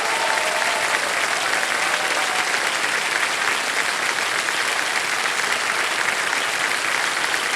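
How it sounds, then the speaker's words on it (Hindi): A studio audience at a Kaun Banega Crorepati quiz show bursts into loud, sustained applause for the contestants, a dense continuous wash of clapping with no talking over it. "सब लोग तालियां बजा दें जोरों से इनके लिए।"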